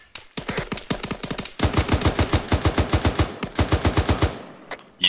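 Rapid automatic gunfire from the video game Arma 3 crackles in close, loud bursts, a short volley followed by a longer sustained stream of shots.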